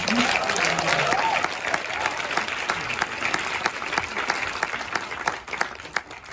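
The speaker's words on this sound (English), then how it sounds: "can we have another round of applause for that?" An audience at a documentary film Q&A gives steady, dense applause throughout, full and close, with faint voices mixed into the clapping.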